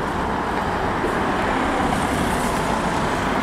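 Steady street traffic outside the railway station in central Riga, Latvia, a continuous broadband roar of passing cars, buses and trucks with no break and no voices.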